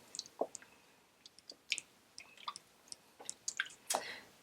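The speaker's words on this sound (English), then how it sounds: "add our 6 ounces of tomato paste and just kind of stir that in a little" Tomato paste, six ounces, being stirred into a homemade pasta sauce, giving soft wet squishes and sticky clicks from the spoon, quiet and close with no talking.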